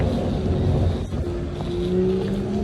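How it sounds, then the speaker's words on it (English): Steady roar of traffic as cars pass along a nearby street in Victoria, British Columbia, a continuous broadband rumble with no voices. "noisy cars"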